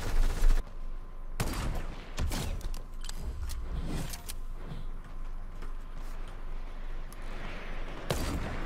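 Sniper rifle gunfire in a video game: sharp loud cracks ring out several times, the first few close together and one more near the end, over a steady background wash.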